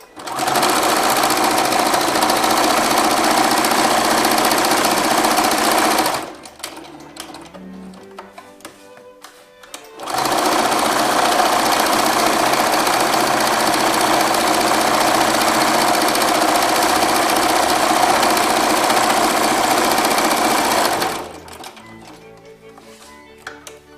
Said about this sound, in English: So let's just choose the zigzag option and zigzag it all around.